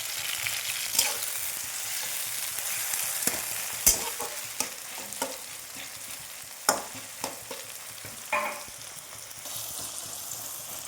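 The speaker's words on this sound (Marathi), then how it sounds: "आता टोमॅटो टाकलाय टोमॅटो पण छान असा तळून घ्यायचा" Chopped onion and tomato fry in a pan, giving a continuous close sizzle with occasional scrapes and clatters from stirring, and no talking.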